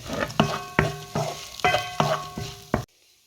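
A utensil scrapes and knocks around a pan while puttu is stirred with fried onion, potato and egg. It gives about seven close, ringing metallic strokes in an uneven rhythm, then stops abruptly.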